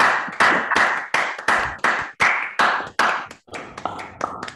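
Participants on an online conference call clap in thanks, heard as a string of sharp, choppy bursts that start abruptly and fade quickly, grouped into a loose, uneven rhythm.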